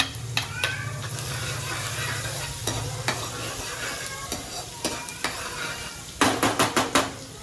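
Ginger and green chillies frying in hot oil for a Chinese-style moong dish, with a steady close sizzle, repeated spatula scrapes and sharp clacks against the pan.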